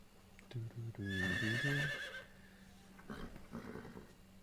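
A horse in the Metal Gear Solid video game gives a loud, quavering whinny that breaks into several pulsing bursts and then trails off, followed by softer sounds that may include hoof clops.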